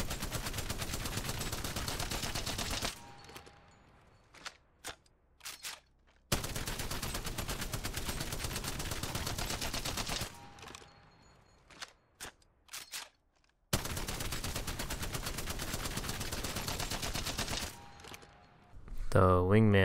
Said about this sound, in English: One of the more underrated guns in the entire game, the Prowler.